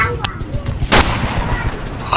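Tank cannon fire in a war video game: a sharp loud blast near the start and a bigger broadband boom around the middle, over a rumbling battlefield bed with scattered gunfire-like pops.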